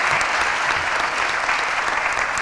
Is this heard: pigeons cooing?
no